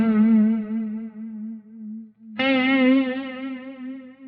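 Guitar notes played through a Line 6 Helix Heliosphere delay with depth and rate modulation, two sustained tones whose wavering, chorus-like reverb tails shimmer and decay, loud and alone.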